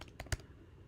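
Keystrokes on a computer keyboard during a geography naming game: a few quick clicks, one sharper tap standing out, heard alone and fairly faint.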